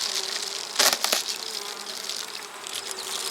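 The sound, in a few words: honeybees buzzing at hive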